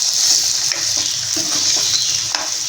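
Egg being gently stirred as it fries in a pan for egg rice, with a loud, steady hissing sizzle and a few soft scraping strokes, close up.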